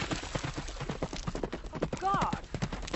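A frightened horse bolting off at a gallop, its hoofbeats thudding in a fast rhythm, with a brief whinny partway through and people talking loudly over the commotion.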